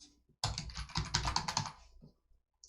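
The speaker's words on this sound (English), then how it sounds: "let's type in the correct password" Bursts of quick key presses on a computer keyboard as a password is typed, close and clear, a short flurry followed by a pause and a few trailing clicks.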